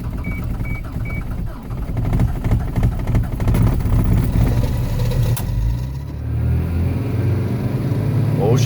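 A Chevy Tracker's engine turns over on a cold Canadian winter day without a block heater, settling into a steady low, rough idle that swells near the end, with voices talking over it.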